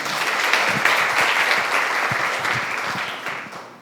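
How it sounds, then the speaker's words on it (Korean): Audience applause welcoming a panel of four speakers onto the stage at a coaching conference session, steady and full for about four seconds and tapering slightly at the end, with no talk over it. "다시 한번 박수로 맞아보도록 하겠습니다"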